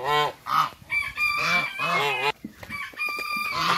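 Black guinea fowl calling nonstop at close range, loud harsh honking and cackling cries with no pauses between them.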